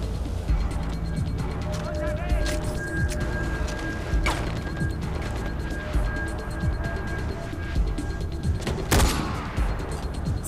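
Gunfire in the first-person shooter Far Cry 4, with scattered shots and a few sharper bursts over continuous game ambience and music, heard under ongoing chatter.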